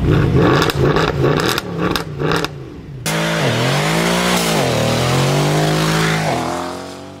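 A 2023 Mercedes-AMG C63 S E-Performance four-cylinder hybrid accelerating: a loud, close engine note with rapid gear-change pulses, then a long rising and falling rev sweep, with no talk.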